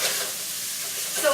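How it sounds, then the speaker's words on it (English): Spinach sautés lightly in a pan on an electric stove, giving a soft, continuous sizzling hiss over a short stretch. "the spinach is just getting sauteed just lightly at the very end"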